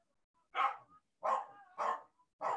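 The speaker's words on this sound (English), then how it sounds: "there goes the dog again" A dog barks four times in a steady series of sharp, loud barks with short pauses between them, close by and with no talking over it.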